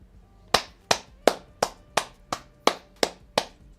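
Nine sharp hand claps ring out in an even, steady rhythm, close and crisp against a quiet room background.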